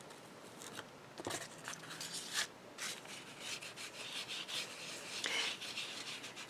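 Gilder's paste wax in bronze being rubbed onto an embossed, wrinkled card, a soft close-up scratchy rubbing in irregular strokes, with a few faint murmured words.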